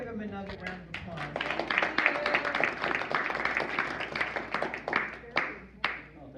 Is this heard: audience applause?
yes